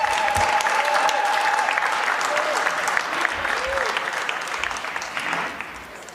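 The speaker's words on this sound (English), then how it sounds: "Let's give the President a better round of applause." A steady, dense round of applause for South Africa's president after he signs the BELA Bill, filling the room continuously with a few voices underneath before it fades slightly at the end.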